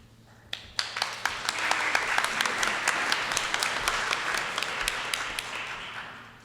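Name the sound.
studio audience applause on 1945 radio show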